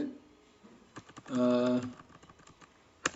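Typing on a computer keyboard during a voice-to-text guide: a few scattered, close key clicks with a sustained tone in the middle and a sharp tap at the end.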